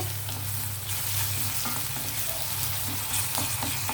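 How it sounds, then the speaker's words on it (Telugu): Finely chopped onions and ginger garlic paste frying in a pan, a loud steady sizzle close by with rhythmic stirring scrapes, no voices. "ఉల్లిపాయలు ఇలాగా చిన్న ముక్కలు కట్ చేసుకుంటే త్వరగా వేగుతాయండి"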